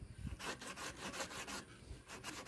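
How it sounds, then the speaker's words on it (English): Sandpaper rubbed back and forth over the hacksaw-cut edges of a PVC pipe, giving a steady series of rasping strokes, close and fairly quiet, with no talking. "sanding all around"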